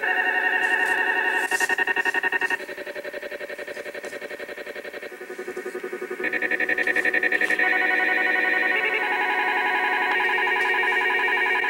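AM broadcast on 1640 kHz from station WTNI, received on an Icom 7300 transceiver, carrying a strange warbling modulation: buzzy, chirping tonal bursts that shift in pitch every few seconds, loud and continuous, with no talking.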